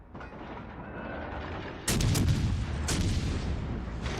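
Heavy warship main-battery gunfire in World of Warships, a loud broadband boom striking at about two seconds with another blast near three seconds, each leaving a sustained low rumble beneath.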